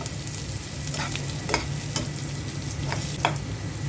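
Potato, pointed gourd and pumpkin fry in a pan with two dried red chillies, sizzling steadily up close. A few sharp spatula scrapes stand out, and no one speaks.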